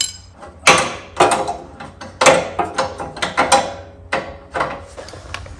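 A wrench tightens a nut on the 48-inch mower deck of a John Deere X-series lawn tractor, giving a close series of sharp metallic clicks and clanks in uneven bursts.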